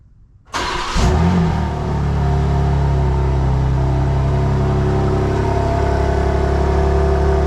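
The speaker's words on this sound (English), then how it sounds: "So let's go ahead and start it up." A 2024 BMW M2 engine starting on a cold day: a quiet moment, then a sharp crank and catch into a loud flare, settling into a steady, deep, close idle rumble.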